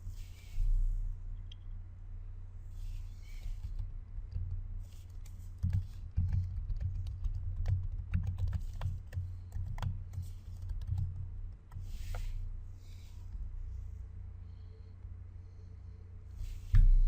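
Typing on a computer keyboard, a quiet, irregular patter of soft key clicks in short bursts with pauses between, close by in an otherwise hushed room.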